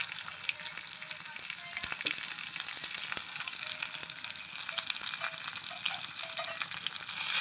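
Curry leaves, dried chillies and onion crackle and sizzle steadily in hot oil as a tempering, with sharp pops scattered through a continuous bright hiss, fairly close and with no voices.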